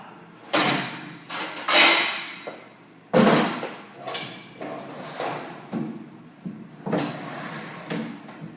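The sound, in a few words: drawer being pulled out of a cabinet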